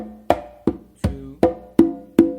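Six sharp conga strikes in a slow tumbao rhythm at a steady pace, mixing deep open tones and higher slaps, with a voice counting along between hits.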